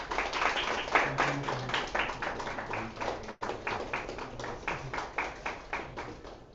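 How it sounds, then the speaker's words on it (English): Audience clapping at a World Poetry Day event launching the International Belagavi Poetry Festival, steady moderately loud applause from a modest crowd with a brief dip midway, ringing on for several seconds. "Let's have a big round of applause."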